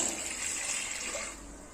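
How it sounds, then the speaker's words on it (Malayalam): A cup of water is poured into a coffee-powder mixture for a homemade insect repellent, a faint, steady splashing trickle that fades out toward the end. "ഇനി ഇതിലേക്ക് നമ്മൾ ഒരു കപ്പ് വെള്ളമാണ് ഒഴിച്ചു കൊടുക്കുന്നത്"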